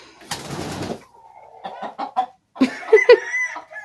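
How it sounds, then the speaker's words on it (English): Farm hens clucking near a nest in a laying room, a few short clucks and a rising squawking call after a rustling burst, close and fairly loud. "Oh my gosh, these chickens."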